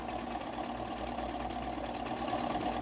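Sewing machine running a wide zigzag stitch over a pipe cleaner, a continuous close mechanical whir with a fast regular pulse and steady hum, no talk.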